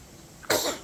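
A baby gives a single short cough, close and fairly soft, bursting out after a moment of quiet room tone.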